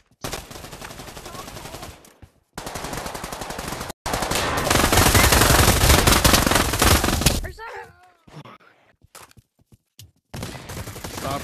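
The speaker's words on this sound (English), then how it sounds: "Stop shooting." Automatic weapon fire from the VR shooter Pavlov, loud sustained bursts of rapid shots with brief gaps, then a quieter stretch of scattered sounds before another burst.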